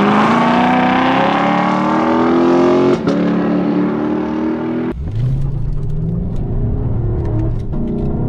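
A stock Lexus LC 500 V8 in manual mode with its 10-speed automatic roars loudly under sustained revving, then dips abruptly into a quick gearshift with a deep rumbling burble and crackles, heard close with no talk.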